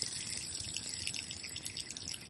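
Water runs steadily from a TROND Wi-Fi smart water timer, a continuous soft hiss and spray with faint dripping, fairly quiet and alone with no talk.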